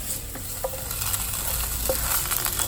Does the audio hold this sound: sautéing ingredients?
yes